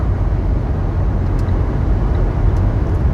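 Steady broadband wind rush and road roar inside a Renault Trafic SpaceClass Grand van with a 170 hp engine and EDC automatic driven at speed, loud and constant throughout with no talking.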